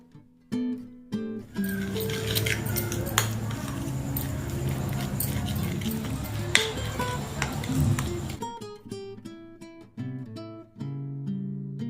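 Spoon stirring masala paste with lemon juice in a bowl for street-style sweet corn, a steady scraping and clinking run through most of the stretch, framed by brief quieter taps at either end.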